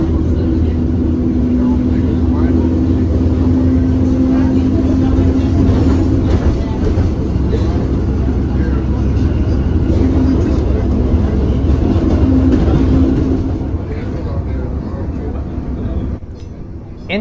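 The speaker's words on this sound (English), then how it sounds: "let's take a listen to the motor noise of these ancient PCCs" Ancient PCC trolley streetcars on the Ashmont-Mattapan line give off a loud, continuous motor drone and rolling rumble with a steady hum, easing somewhat near the end.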